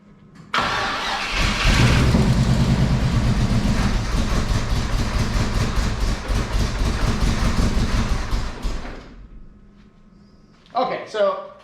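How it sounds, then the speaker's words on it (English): An old Toyota FJ40 engine cranks, catches and runs at a rough steady idle for several seconds before shutting off, followed by a brief voice. "so it definitely fires up and runs"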